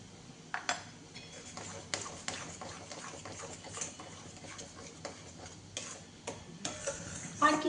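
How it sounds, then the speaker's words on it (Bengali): A spoon stirs food around a cooking pan in a quiet home kitchen, making a series of light scrapes and metallic taps at an irregular pace, with faint sizzling underneath and no voices. "এবার শুধু এটাকে নাড়াচাড়া করতে করতে করতে করতে"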